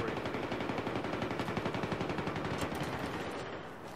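Rapid automatic gunfire from Battlefield 3 in close-quarters play rattles in a steady stream of shots for several seconds before tapering off, fairly faint in the mix.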